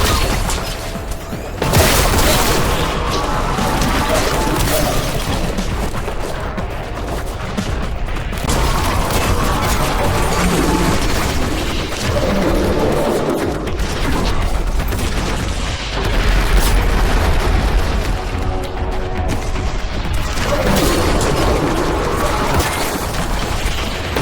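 Heavy weapons, including a Grav Cannon, firing in the video game Warhammer 40K: Boltgun, with dense, loud, continuous booming blasts and crashing explosions layered with game music.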